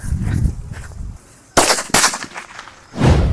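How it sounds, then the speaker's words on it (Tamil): After a low rumbling, two sharp, loud kuruvi firecracker bangs go off in quick succession during Diwali, followed by another rumbling blast. "குருவி வெடி 5த்தையும் முறுக்கி வச்சிருக்கோம்."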